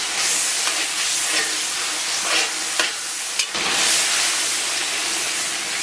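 Chili bean paste, chili sauce and soy sauce stir-fried over low heat in a wok for a spicy stewed pig's head, giving a close, steady sizzle with a few sharp spatula scrapes and no talking.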